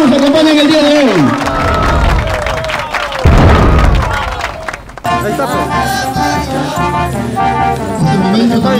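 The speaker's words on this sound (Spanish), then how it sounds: "Fuertes aplausos para los hermanos que nos acompañan el día de hoy" Crowd at a village district centenary celebration in Huayllapampa, Recuay, Ancash, cheering and clapping loudly, the applause mixed with music and voices throughout.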